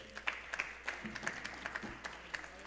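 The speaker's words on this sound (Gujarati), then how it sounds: "એટલે એમના માટે તાળી વધાવો" An audience at a Hindu temple gathering claps in a thin, scattered way. Individual claps stand out as separate sharp taps rather than a full roar, at a moderate distance and fairly quiet.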